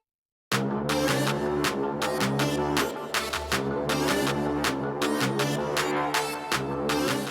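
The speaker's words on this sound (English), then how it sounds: "we can use a lead synth to make a melody." Lead synth melody with Middle Eastern semitone inflections, built for a pop track, playing loud and continuous with bright rhythmic stabs over a full backing after a brief silent start.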